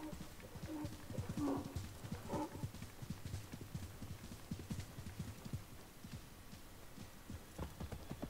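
Camel galloping in the video game Assassin's Creed Mirage, a steady rhythmic run of hoofbeats with faint game ambience and brief animal calls, heard throughout without talk.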